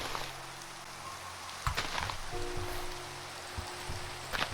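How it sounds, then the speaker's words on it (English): Rain falls in the Minecraft video game as a soft, steady hiss of pattering drops, with a few faint thumps and a brief tone over it and no talking. "It started raining."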